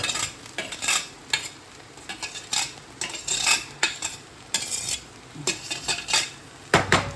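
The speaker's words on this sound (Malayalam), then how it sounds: "ഇതാ ബിരിയാണി റൈസ് ഇട്ടു" Kaima biryani rice goes into a pot of chicken biryani base and is stirred vigorously. Loud, rhythmic metal spoon scrapes and clanks against the pot ride over a soft sizzle, with no voices.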